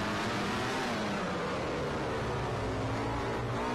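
A MotoGP racing motorcycle engine in the video game MotoGP 13, at the Sachsenring circuit, roars loud and steady at high revs throughout, with no talk over it.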